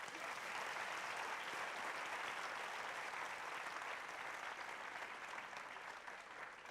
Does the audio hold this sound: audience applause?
yes